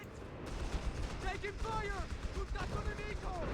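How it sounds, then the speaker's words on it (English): Gunfire and explosions from a Stuka dive bomber attacking in a WWII strategy battle game rattle continuously as a dense, noisy barrage, with a voice speaking over the combat. "Stuka's firing again here"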